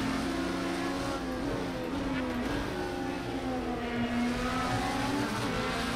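An IndyCar race car engine in Project CARS 2 drones steadily at a held pitch while the car is slowed to the pit-lane speed limit at Road America, a loud continuous buzz with faint background crowd-like noise.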